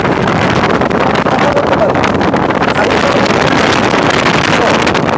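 A robot kitchen range hood fan running at high speed, a loud, steady broadband whoosh of rushing air filling the clip close to the microphone.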